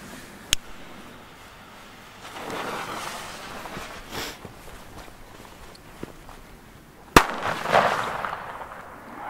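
German D-Böller firecracker blasts outdoors, two sharp isolated bangs several seconds apart with faint rustling and footsteps between them, moderately distant.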